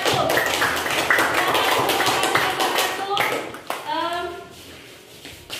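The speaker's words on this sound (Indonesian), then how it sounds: "tepuk tangan dulu untuk kelompok 1" Scattered clapping from students in a classroom for a group, brisk taps fading out midway, followed by voices talking.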